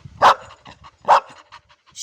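A Labrador barks on command, two loud, close barks about a second apart with quieter panting and whimpering in between.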